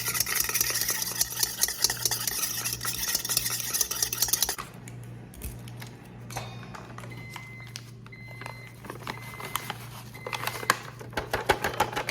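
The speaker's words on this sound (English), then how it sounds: "And then we're going to beat 1 egg." An egg being beaten in a bowl while making cherry pie sugar cookie bars, heard as a steady, rapid whisking clatter of a utensil against the bowl that is loud at first, drops off briefly, then picks back up.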